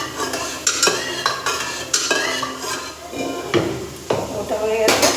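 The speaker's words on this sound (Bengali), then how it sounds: "ডালটা এবার একটুখানি ঘুটে নেবে" A spoon stirs and beats cooked lentil dal in a metal pot, with scraping clatters against the sides in uneven strokes and gentle sizzling underneath, while someone talks over it.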